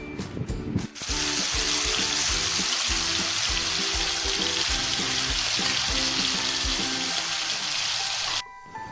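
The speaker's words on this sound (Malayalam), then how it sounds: "നമുക്കതിലേക്ക് ചിക്കൻ ചേർത്ത് വറുത്തെടുക്കാം" Chicken sizzles loudly and steadily in a little hot oil for fried rice, a dense hiss filling nearly the whole stretch with a few utensil scrapes, then cutting off abruptly near the end.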